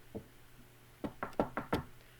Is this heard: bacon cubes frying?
no